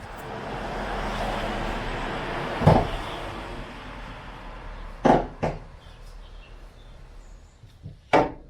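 Metal pry bar tapping against the gearbox casing while removing the 1275cc engine and gearbox from an Austin Allegro: a few sharp metallic knocks spaced several seconds apart over a low garage background hum.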